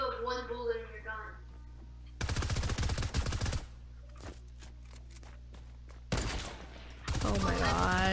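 Rapid bursts of video game gunfire in a gun game mode match, two loud stretches of automatic shots with scattered single shots between, while players talk excitedly over it.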